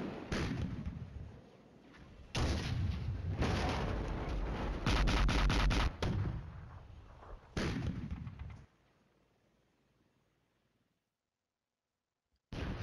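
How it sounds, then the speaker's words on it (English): Artillery fire in the video game Flashpoint Campaigns Red Storm, several booming blasts in clusters with rapid rumbling volleys, each trailing off, followed by a quiet gap before another blast at the end. "My artillery's going to be useless over there."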